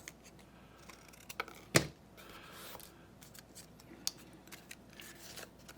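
Scissors snip through folded paper being trimmed for manga eye drawing, one sharp cut standing out amid faint rustling and smaller clicks, close and quiet with no talking.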